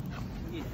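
A dog at a dog café gives a short, near yip or whimper-like bark in one brief burst.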